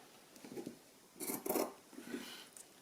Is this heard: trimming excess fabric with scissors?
yes